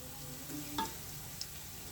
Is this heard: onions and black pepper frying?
yes